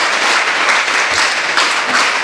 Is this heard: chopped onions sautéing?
no